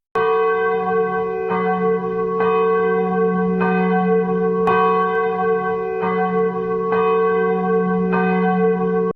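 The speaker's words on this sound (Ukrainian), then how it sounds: "сигнал хімічної небезпеки це звук церковних дзвонів" Church bells ring in a steady, overlapping peal as a chemical danger alert, with repeated strikes roughly every second or two over a sustained humming resonance, loud and alone.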